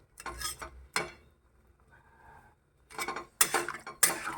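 Red chicken masala being stirred in a pot after water is added, with bursts of metal spoon scraping and clinking against the vessel separated by short quiet gaps, close and fairly loud.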